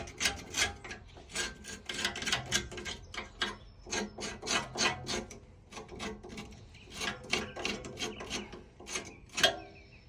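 A tool scrapes crud off a brake hub surface beside an ABS sensor in a run of short, rasping strokes at close range, with small clicks and no talking.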